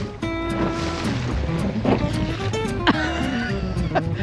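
Small dinghy motoring across open water in the Exumas, with a steady engine drone, splashing wake and gusty wind buffeting the microphone, and faint voices now and then.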